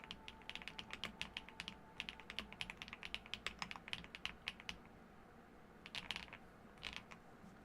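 Fast, steady typing on an Epomaker RT85 mechanical keyboard fitted with ABS keycaps, a close, quiet clatter of scratchy key clicks with a brief pause before another burst of keystrokes.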